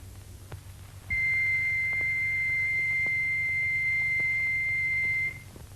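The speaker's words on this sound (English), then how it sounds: "Turning the wheel produces a continuous note." An electromechanical organ tone wheel generator produces a steady, pure continuous note that holds evenly for about four seconds over a low hum, then cuts off.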